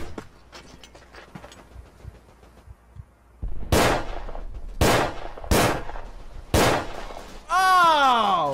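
Four sharp, loud pistol-like reports in the WW1 shooter Verdun, spaced roughly a second apart after a quiet stretch, followed by a longer, wavering blast-like sound at the close.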